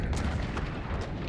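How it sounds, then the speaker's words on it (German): A loud, dense explosion in the video game Hunt: Showdown, a broad rumbling blast with several bursts running through the whole moment. "Vorsicht hinter dir, Explosion."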